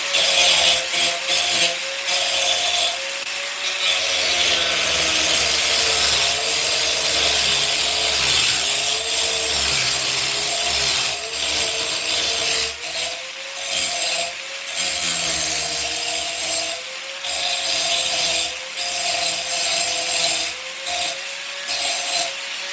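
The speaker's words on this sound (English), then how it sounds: "we're gonna pretty much grind this to fit" A power grinder works a metal mount to fit on a wheelie bar fabrication job, a steady loud abrasive whine held close for a long stretch with slight dips in pitch and no talking.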